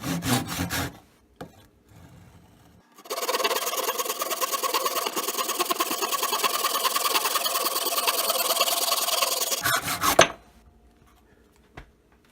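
Hand file rasping across a knife blank in steady close strokes for about seven seconds, bracketed by a few scrapes and knocks before and after, with no voices.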